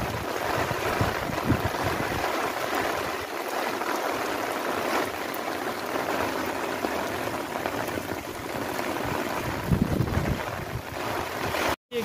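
Heavy rain pouring onto a flooded village street in rural Punjab, Pakistan, a steady loud wash of falling water and splashing runoff that continues throughout without any talk.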